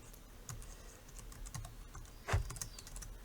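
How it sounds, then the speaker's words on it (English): Keys tapped on a computer keyboard during a spreadsheet calculation, a short burst of light clicks with one sharper, louder keystroke near the end, heard close and alone in a quiet room. "Let's just type it in."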